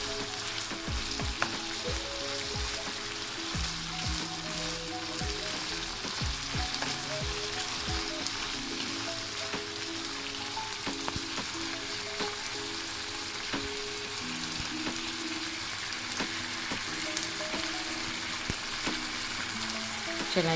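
Garlic ginger paste frying in a pan for egg rolls, a steady close sizzle with occasional clicks of stirring, continuous and unbroken with no voices.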